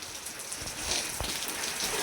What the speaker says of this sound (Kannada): ಮಳೆ ನೋಡಿ ಹೆಂಗೆ ಬತ್ತೈತೆ